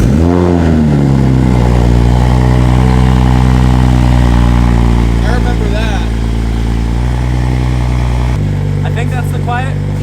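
A 2020 Toyota Supra A90 with a titanium exhaust cold-starts with a loud roar that settles into a steady, rumbling high idle. A short blip follows near the end.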